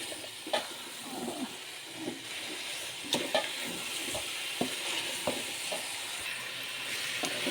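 Carrot halwa with sugar being stirred and roasted in a pan, soft steady sizzling broken by repeated scraping and clinking strokes of a spoon, fairly quiet and without voices.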